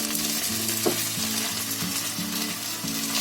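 A sabudana snack mixture fries on a hot pan over low gas, a dense steady sizzle close by with faint tonal hum in the background and no speech.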